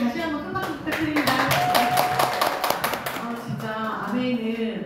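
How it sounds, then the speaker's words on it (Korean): An audience claps for a speaker at a Korean talk event, a brief burst of scattered hand claps mixed with voices and background chatter, moderately loud and fading out. "다시 한번 큰 박수 부탁드립니다"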